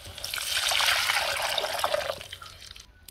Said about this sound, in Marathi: आता आणि पाणी ओतून घेऊया।